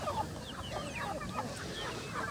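Fighting chickens on a farm cluck and call in a steady, moderately faint jumble of overlapping fowl sounds, with no talking.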